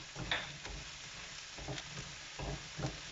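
Mushrooms and garlic frying in a pan give a low sizzle, with a few soft scrapes of a utensil stirring them at irregular intervals, close but quiet.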